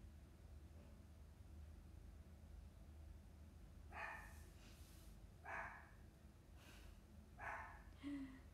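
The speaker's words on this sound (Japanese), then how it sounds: "犬も鳴いてます。" A dog barks in a few short bursts, apparently set off by construction noise nearby. The barks come from some distance and sit well apart over a low, steady background hum, with no talking.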